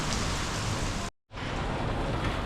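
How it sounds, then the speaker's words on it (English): Heavy, steady rain pours down on Tangjia Village in Zhuhai, China, dense and loud, with a brief moment of complete silence partway through before the downpour resumes. "I think it's just going to keep on raining and raining and raining."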